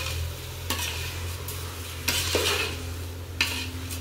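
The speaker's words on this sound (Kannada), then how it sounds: "ಇವಾಗ ಒಂದು ಒಳ್ಳೆ ಮಿಕ್ಸ್ ಎಲ್ಲ ಕ್ಲೀನಾಗಿ ಮಿಕ್ಸ್ ಆಗಬೇಕು." Mutton biryani stirred and mixed in a pot, with a few spoon scrapes and knocks over a low, steady sizzle and background hum.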